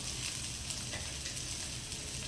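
Onion, cabbage and capsicum stir-fry for Manchurian in a hot pan, giving a steady, close, dense sizzle with faint stirring scrapes throughout.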